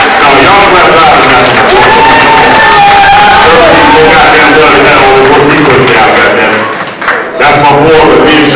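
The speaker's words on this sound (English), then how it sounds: "y'all clap loud enough" A comedy club audience claps and cheers loudly and continuously, with whoops and shouts in a dense, close wash of crowd noise that dips briefly near the end. Voices call out over it.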